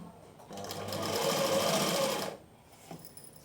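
Sewing machine running steadily for about two seconds as it stitches piping onto cloth, a close, continuous whirring hum that starts and stops cleanly with a quiet room on either side.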